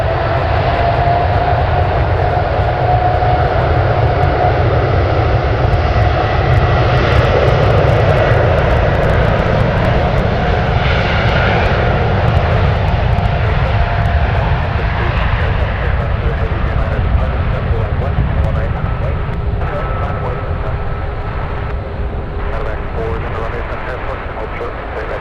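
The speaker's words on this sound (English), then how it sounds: "Japan Airlines 1 heading off to Tokyo Haneda. Now on its takeoff" A Japan Airlines jet roars through its takeoff roll at San Francisco, bound for Tokyo Haneda, a loud continuous engine rumble at a distance that holds steady and fades slightly near the end.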